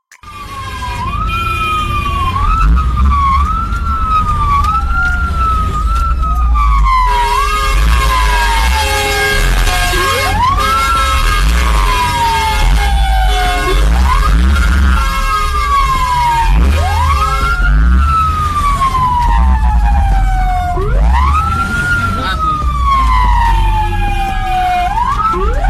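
A fire truck siren wails continuously in rising and falling sweeps through Indonesian street traffic. It is loud and close, and horn toots and an engine rumble sit beneath it.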